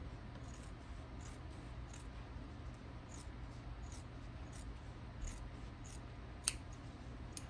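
Scissors snip through a fabric quilt block in a quiet room, a series of light, irregular crisp cuts, close and faint, with no voices.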